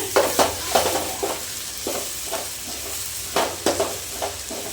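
Ginger garlic paste sautéing in a pan for fish curry, a steady sizzle broken by repeated scraping stirs of a spoon against the pan, close and fairly loud, with no voices.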